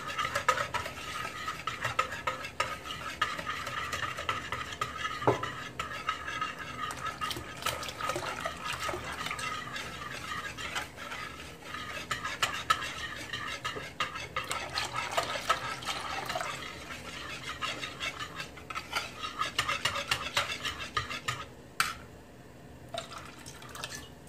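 A soup mixture for tomato-based baklava soup is whisked in a pot, a quiet, continuous clinking and stirring scrape with occasional sharper taps of the utensil against the pot's side.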